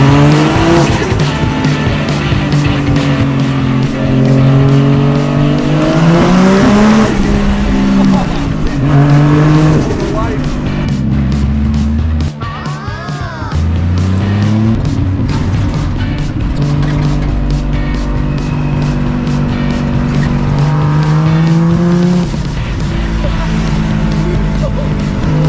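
A 1949 Ford F3 rat rod with a swapped, nearly stock 1JZ engine wearing an aftermarket intake and exhaust, driving with a loud, steady, rowdy engine note that rises and falls throughout, with a person's voice briefly over it.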